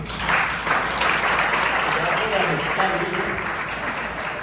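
A church congregation claps together in a sustained, dense burst of applause, loud and fairly close, holding steady across the whole stretch with a murmur of voices mixed in.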